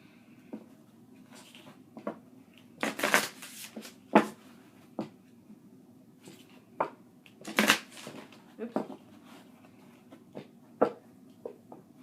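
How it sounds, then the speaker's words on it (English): Irregular papery shuffling and soft card slaps of tarot cards, a handful of sharper bursts scattered across a quiet room, close by and moderately loud. "I wish I could say that was the worst shuffle of all time"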